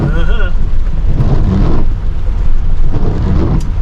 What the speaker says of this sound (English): Well, you know what, Wade, you don't have to go set up in the rain.